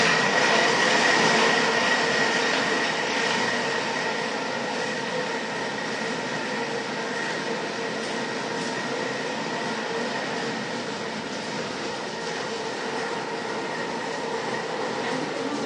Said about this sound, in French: Et là, je vais mixer 25 secondes, vitesse 6